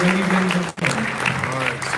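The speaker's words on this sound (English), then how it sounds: "Let's give them a round of applause." Audience applause for speakers at a blockchain conference on exchanges and marketplaces, a steady wash of clapping across the room with a brief dip midway and a voice talking over it.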